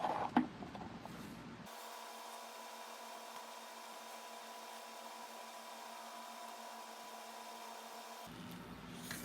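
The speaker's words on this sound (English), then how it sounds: "So I am going to cut this out using my handy dandy hot wire cutter." A hot wire cutter slices through XPS foam with a steady, faint electrical hum that holds evenly for several seconds, with a brief handling noise before and after.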